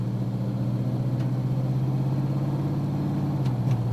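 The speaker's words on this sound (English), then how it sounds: "Start with some light throttle upshifts and feel for the 1-2," A car with a 4L60E automatic transmission on a road test under light throttle upshifts gives a steady, close engine drone with a low hum throughout and no clear break.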